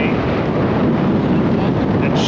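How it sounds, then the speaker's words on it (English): Strong wind blows at the Pacific Ocean shore in California, a constant loud roar buffeting the microphone with no pause across the short span. "It's really windy"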